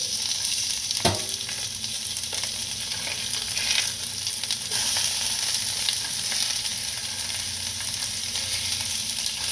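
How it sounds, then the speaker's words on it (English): A tilapia fillet sizzles steadily in a hot pan after being flipped, a dense crackling hiss with an occasional utensil knock and no talk. "We're going to go ahead and give it a nice flip."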